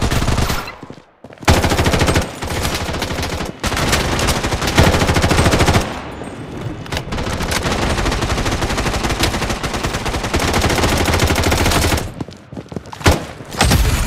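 Sustained automatic gunfire in the mobile shooter Bloodstrike, long loud bursts from nearby weapons broken by a few short pauses, with heavy rapid reports running for most of the stretch.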